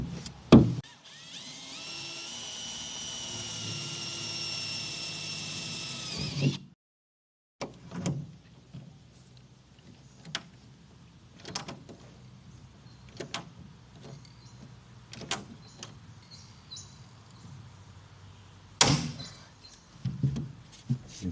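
A Blue Point rivet gun works on a vehicle canopy fit-out, a sustained whining power-tool burst for about six seconds, then a string of sharp separate clicks and knocks, close and fairly loud.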